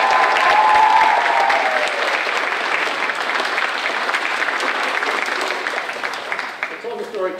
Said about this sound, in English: let's give a round of applause to people behind the scenes